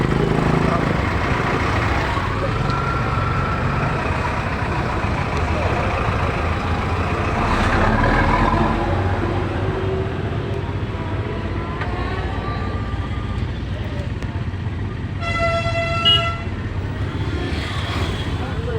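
Heavy road traffic crawls through a jam among big buses, a steady loud engine rumble filling the scene, with a short bright horn blast near the end.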